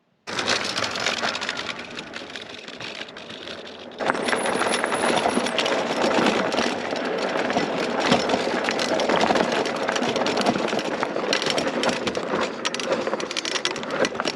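An EUY folding electric bike with knobby tires riding down a trail, a dense continuous roar of wind buffeting and tire rumble on dirt that jumps louder after a few seconds and stays steady.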